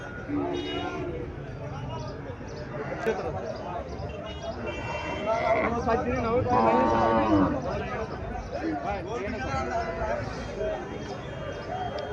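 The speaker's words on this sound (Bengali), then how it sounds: "গাভীটা সাইওয়াল জাতের।" Sahiwal cow and calf at a livestock market in Barura, Comilla, lowing in a long drawn-out moo amid a noisy crowd, with people talking loudly throughout.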